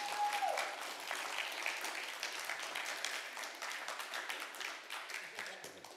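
Steady applause from a crowd, many hands clapping continuously at moderate volume, tapering slightly toward the end.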